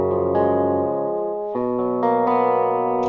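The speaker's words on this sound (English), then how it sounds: "We can take these chords and then just move them over so they're arpeggiated." Arpeggiated chords from a virtual guitar VST plugin, bright plucked tones ringing on with sustain, shifting to new notes about every half second in a steady pattern, close and clear with no other sounds.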